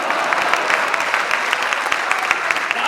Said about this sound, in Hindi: ये जितने भी खंडर थे उन्होंने तालियां बजाई।